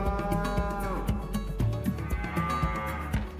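Cattle on a rural farm in Lugo, Galicia, reared in the open air, moo repeatedly in long low calls close by, with one call following another and no talk.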